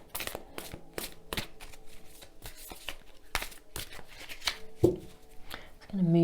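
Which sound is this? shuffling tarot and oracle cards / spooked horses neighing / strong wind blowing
shuffling tarot and oracle cards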